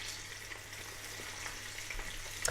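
Prawns fry in a pan with a soft, steady sizzle and small crackling pops, close but fairly quiet, a few brief louder spits near the end.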